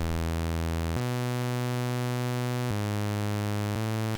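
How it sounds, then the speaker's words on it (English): A steady, buzzy synth bass holds low sustained notes, shifting pitch a few times in a slow, even line with no gaps and no talking. "quickly just build out a bass line"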